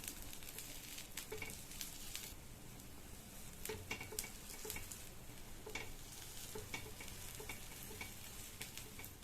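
Ghee-rich kuzhi paniyaram cooking in a paniyaram pan and turned one by one, a soft steady sizzle with light clicks and taps of the turning tool, faint and close, no voices.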